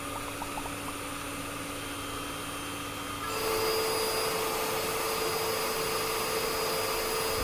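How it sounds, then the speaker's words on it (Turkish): A Philips AquaTrio Cordless 9000 vacuum cleaner whirs steadily, then steps up to a louder, higher-pitched whine partway through, running continuously with no talking. "yüksek emiş gücündeyken çıkarttığı ses bile benim kullandığım diğer şarjlı dikey süpürgelerden daha az"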